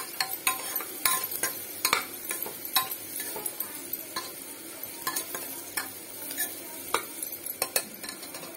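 Ginger garlic paste fries with browned onions for mutton curry while a spoon scrapes and taps the pan in quick irregular strokes, a soft crackling sizzle running beneath the close clinks.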